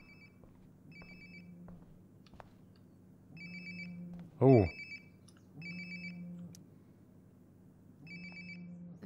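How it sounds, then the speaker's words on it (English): A phone rings in the video game Life is Strange: Before the Storm, giving repeated electronic ring bursts at steady intervals with one loud thump midway and a brief voice. "Sounds like my phone is definitely nearby."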